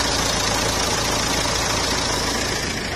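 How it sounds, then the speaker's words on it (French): A car engine idles after a 10 km drive, a steady, dense mechanical hum that runs unbroken and close throughout, with no voices over it. "Maintenant, on va éteindre le moteur."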